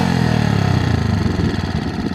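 A 1965 Honda 55 Trail motorcycle engine idles steadily up close, a busy low putter with a fast, even pulse throughout.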